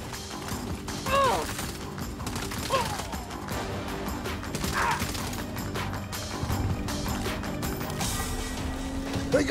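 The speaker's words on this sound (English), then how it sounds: "That's some fine shooting." Video game gunfire in Saints Row: a dense run of sharp shots and impacts over a rumbling vehicle engine, with speech mixed in and clatter throughout.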